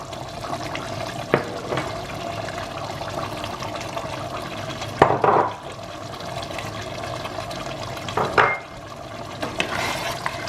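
Jamaican curry chicken with potato in thick gravy is stirred in a pot, giving wet, sloshing scrapes with a few louder swishes spaced several seconds apart over a steady background.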